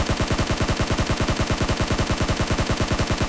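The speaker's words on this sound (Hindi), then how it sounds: "अब इधर की तरफ फायरिंग चली थी काफी देर से" Rapid automatic gunfire in PUBG Mobile fires as one loud, continuous burst of evenly spaced shots that keeps the same fast rhythm the whole way through.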